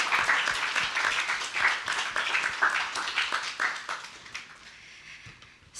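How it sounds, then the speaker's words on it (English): A live audience claps at an arts showcase honoring an artist's work, a steady wash of mixed hand claps that holds for several seconds and then thins and fades near the end. "If we could have a round of applause in honor of Olivia's work,"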